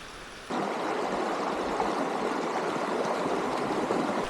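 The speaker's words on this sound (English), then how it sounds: "We're going to cross the river." River water rushes steadily during a mountain bike river crossing on a forest trail in Hanmer, with 1990s mountain bikes. It is a broad, continuous flowing roar that jumps louder about half a second in and then holds close and even.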